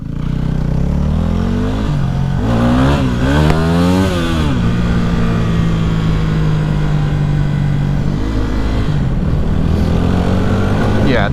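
A Yamaha WR250R dual sport motorcycle being ridden, its engine a loud, close, buzzing drone that revs up and down in a few quick surges before settling into a steady cruising tone.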